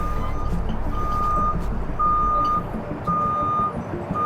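A lorry manoeuvres into position during a heavy trailer recovery, its reversing alarm sounding loud, evenly spaced beeps over a steady diesel engine rumble.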